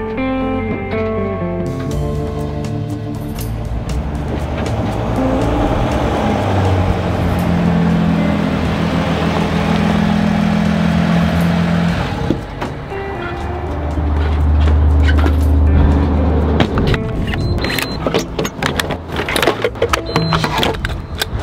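A van drives a snowy winter road on a trip north toward Alaska. A continuous engine and road rumble runs throughout, with shifting low tones and bursts of rattling and clicking in the later part.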